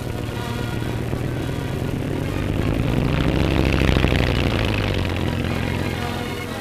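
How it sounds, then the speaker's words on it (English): A Bristol helicopter flies a display at an English airfield, its engine and rotor giving a steady, loud droning roar that swells slightly toward the middle and eases again, with no voices. "Then came a display by a Bristol helicopter."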